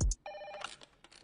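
A telephone rings indoors in a film scene, with quick, bright electronic ring bursts over little more than a second.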